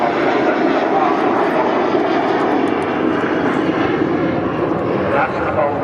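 Avro Vulcan XH558 delta-wing bomber passing at the Southport Airshow 2015 with its bomb bay doors open, a loud, continuous, broad jet roar that holds steady throughout.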